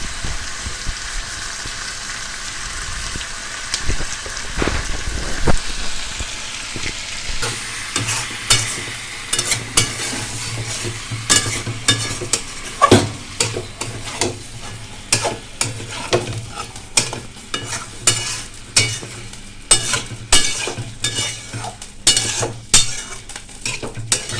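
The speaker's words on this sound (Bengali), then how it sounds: "মশলার সাথে আমার আলু কষানো হয়ে গেছে" Potatoes sizzle in a pan with spices and dried kasuri methi as a spoon stirs and scrapes in quick repeated strokes over a steady close frying hiss, with no talking.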